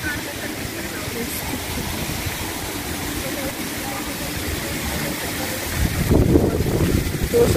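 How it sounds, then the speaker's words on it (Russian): A small waterfall at a resort hotel in Hurghada, Egypt, gives a steady broadband rush of falling and splashing water, swelling into a louder, closer splash near the end, with faint background voices. "Водопадик."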